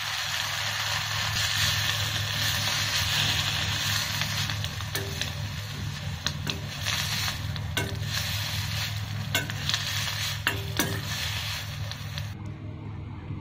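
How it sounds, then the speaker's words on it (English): Fresh coriander is stirred in a hot pan just taken off the flame, giving a steady sizzle with a low hum underneath and repeated scraping strokes from a spoon. "We're going to add the coriander in the same pan."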